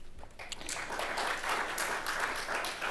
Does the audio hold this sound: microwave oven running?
no